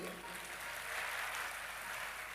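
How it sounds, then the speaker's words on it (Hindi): A large audience at a Hindu Bhagavat Katha discourse in Rewari claps steadily, a thick, continuous burst of applause filling the whole stretch at even loudness. "दूसरी जोरदार तालियां मंडल के सभी सदस्यों के लिए।"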